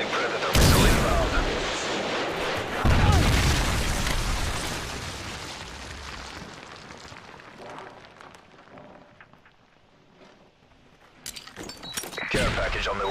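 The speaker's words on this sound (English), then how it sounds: "Friendly Predator missile inbound." Predator missile strikes in Call of Duty: Modern Warfare 3 produce heavy, rumbling explosions, two loud booms early that decay into a long roar, then the noise quiets before more sharp bursts of game sounds near the end.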